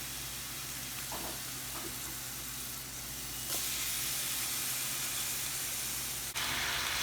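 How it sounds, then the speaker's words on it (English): Food frying in a pan for a loaded baked potato recipe gives a steady close sizzle and hiss, swelling louder partway through as more is added, with no talking. "And just gonna put these in there to fry."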